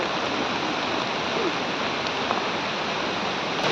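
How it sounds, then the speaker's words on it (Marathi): A waterfall near Hodkhad village, Khed, Ratnagiri, pours down and flows onward, a steady broad rushing roar that stays even and close throughout with no voices over it. "आता आम्हाला ना थोडासा भाग त्याचा दिसलेला आहे धबधब्याचा, वरून जो पडतोय आणि तो जो वाहत खाली जातोय"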